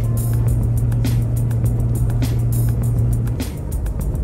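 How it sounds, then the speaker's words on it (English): Steady road and tire hum from a Toyota Tacoma mid-size truck on Yokohama Geolandar A/T G015 tires, a constant low drone with a faint wind wash over a paved stretch, no talking. "Now here I am driving the same stretch of road."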